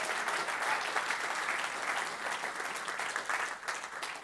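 A church congregation applauds together, a dense steady wash of clapping heard from a little distance, with no talk over it.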